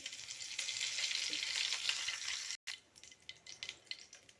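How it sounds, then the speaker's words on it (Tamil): Close, steady sizzling of mustard seeds and curry leaves frying in hot oil, with scattered sharp pops and crackles that grow more distinct after a brief gap. "கடுகு நல்லா பொரிஞ்சதும்"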